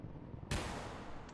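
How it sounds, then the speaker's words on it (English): A single sharp gunshot cracks in a New York alley in Vampire: The Masquerade - Shadows of New York, loud and abrupt against a low ambient hum, its echo trailing off briefly with no voices present. "A loud bang echoes through the alley."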